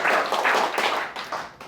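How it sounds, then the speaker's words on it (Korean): A short burst of applause from a walking group at Haneul Park in Sangam, Seoul, dense clapping that fades slightly toward the end. "박수 한번 보내드릴게요"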